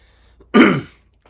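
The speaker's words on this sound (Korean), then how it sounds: "제가 말을 많이 하다 보니 지금 목이 아파서 자꾸 기침이 나오네요" A single short, throaty cough comes from someone with a sore throat after talking for a long time, a close, sharp burst in a quiet room with no talk around it.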